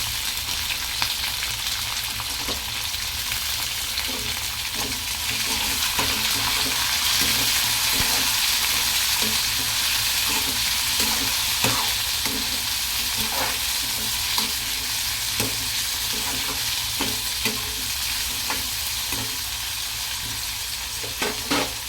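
Onion, garlic, green chili and tomato cooking in a pan for vegetable khichdi, a constant loud sizzle with frequent light scrapes and clicks of stirring throughout, close up and without speech.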